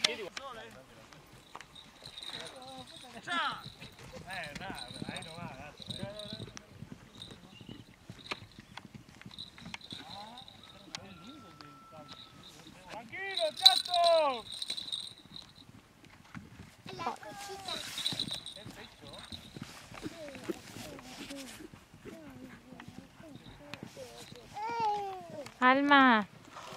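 Horse hooves at a reining trial among friends, a soft scattered clip-clop on the ground at moderate distance, heard under an announcer's talk over a loudspeaker and nearby chatter.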